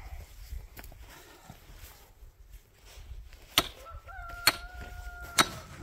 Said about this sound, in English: The rooster's telling us to go to bed.